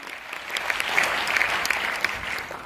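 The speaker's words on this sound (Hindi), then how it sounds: "इसीलिए जोरदार तालियां गुरु मां पिता अविनाश सर के लिए" An audience at a DXN business meeting in Motihari, Bihar claps steadily, a dense, even patter of many hands sustained for a few seconds at moderate distance.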